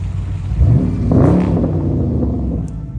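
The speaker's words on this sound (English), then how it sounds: "For RT, I always get compliments about my exhaust." A Dodge Charger R/T revs in neutral, its exhaust swelling in one quick rising rev, then burbling and settling back to a low idle, close and loud.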